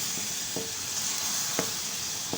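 Masala fries in a pan for chicken seekh kebab, a steady sizzle punctuated by a few short scraping stirs of the spoon, close and fairly quiet with no talk.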